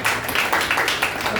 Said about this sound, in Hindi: तो इसलिए बहुत अच्छी तालियां बजनी चाहिए।